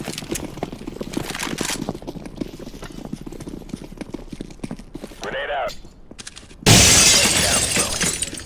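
A Molotov cocktail shatters in a Counter-Strike match, a sudden loud glass break and fiery burst arriving near the end after stretches of gameplay noise, footsteps and a brief whoosh.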